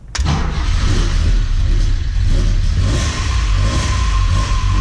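An Alfa Romeo Giulia Veloce Spider, a car that has seen better days, starts after a couple of tries: a sharp crank and catch, then a loud, steady idle running close by.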